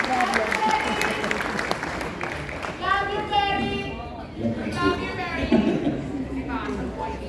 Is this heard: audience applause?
yes